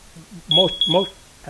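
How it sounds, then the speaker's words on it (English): A carbon monoxide detector keeps beeping even after its battery has been replaced, giving two close, loud electronic chirps under a faint background hum. "you replace the batteries in your carbon monoxide detector, as we did with this one right here, and it just continues to beep?"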